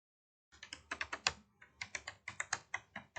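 Typing on a computer keyboard: a quick, irregular run of sharp, close key clicks with a short pause midway, heard alone in a quiet room.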